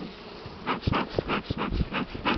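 Honey bees buzzing around an opened hive during treatment against mites, a steady close hum with short pulsing swells and small movements mixed in.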